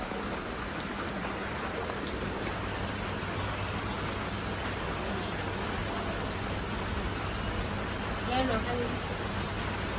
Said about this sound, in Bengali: সারা রাত বৃষ্টি, সারাদিন বৃষ্টি হইয়া বন্যা হয়ে গেছে